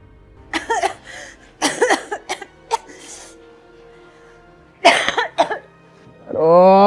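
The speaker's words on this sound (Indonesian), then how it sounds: "Aduh, kamu berisik banget sih pakai batuk-batuk." Harsh, repeated coughing in several close, loud bursts with short pauses between them, ending with a voiced, strained sound.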